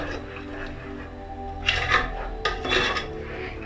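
A spoon stirs ground coconut and tomato paste into a simmering gravy in a metal pot, making a few close scraping and clinking strokes against the pot with no talking.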